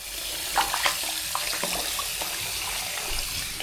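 A shirt and socks are washed by hand in a prison cell sink, with steady running water and sloshing splashes close by, no voices.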